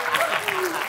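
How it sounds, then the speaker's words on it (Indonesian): An audience at a live entertainment show applauds in a brief, steady patter of clapping mixed with voices. "Tepuk tangan lagi dong,"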